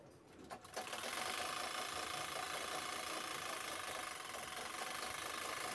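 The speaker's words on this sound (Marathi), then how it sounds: "इथे दाबटीप घेते साईडला" A sewing machine top-stitches along the side of a lined apron, starting up after a brief pause and then running in a steady, fast, continuous whir close by, with no talking.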